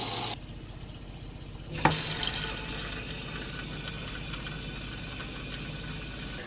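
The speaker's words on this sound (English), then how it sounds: "I'm going to leave the valve half and half so that we run the water through the hot boiler tank as well" Water rushes from an open tap through a motorhome's hot boiler tank. A short burst cuts off, and after a sharp clunk a steady, fairly loud flow of running water with a low mechanical hum carries on alone.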